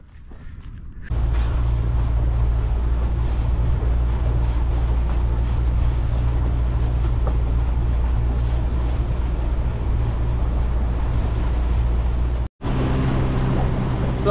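A motorboat runs out on the water in cold wind, its engine droning steadily and loudly under heavy wind buffeting on the microphone, with one brief dropout near the end.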